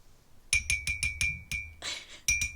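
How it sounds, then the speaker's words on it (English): A spoon stirs tea in a cup, striking the side in about eight close, bright clinks with a steady rhythm and ringing tones, with no voices. "stirring my tea"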